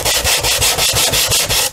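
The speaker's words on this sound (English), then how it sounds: "80 grit sandpaper makes real quick work of this kind of thing." Coarse 80-grit sandpaper rubs the balsa fuselage of a SIG Kougar model airplane in quick, loud, close back-and-forth strokes, about seven even scrapes in a steady rhythm with no talking.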